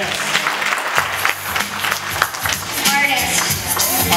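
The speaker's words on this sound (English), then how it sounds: "Give him a round of applause." A classroom group claps in a round of applause, a busy patter of many hands that carries on steadily with voices mixed in underneath.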